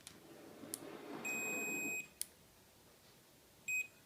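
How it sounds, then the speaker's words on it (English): Continuity buzzer on a DT832 digital multimeter gives two steady electronic beeps, a longer tone of under a second followed by a short blip, fairly close and clear with no talking. "the buzzer. How does that work?"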